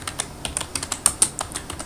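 Typing on a computer keyboard while entering a heading in a Word document: quick, uneven bursts of crisp key clicks, close and clear, with no talking.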